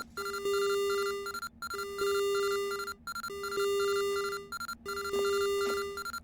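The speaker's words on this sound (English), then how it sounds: "I would turn these sirens off, but I can't physically reach them" Repeating electronic warning alarm from a spaceship life-sim game, sounding in four long tonal bursts with short gaps, a steady beeping tone layered with higher harmonics, loud and continuous with no talking.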